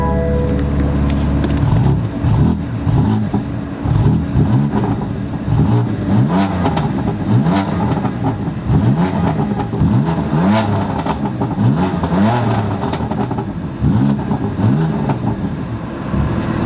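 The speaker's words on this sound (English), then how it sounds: "I did not rev it very much guys, and it sounds very, very nice compared to before." A modified BMW M4 LCI Competition engine rumbles close by and is revved repeatedly, each throttle blip swelling and falling back in a steady rhythm, with no talking.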